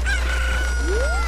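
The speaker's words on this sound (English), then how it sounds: "these chickens are so annoying" Chickens in The Legend of Zelda: Ocarina of Time, a loud close cluck followed by a rising crowing squawk over a low steady hum.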